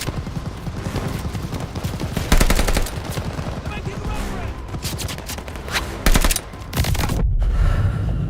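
Machine gun fire in Call of Duty: Vanguard comes in rapid, loud bursts, with sustained automatic volleys and heavier booming shots between them, closing on a low rumble.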